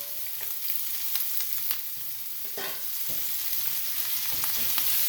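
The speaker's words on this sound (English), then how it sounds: "So we're going to stir fry it." Jumbo scallop, shrimp, clam and octopus are stir-fried with gochujang, ginger and garlic in a hot pan, giving a steady loud sizzle broken by scraping stirs and clatter, with no talking.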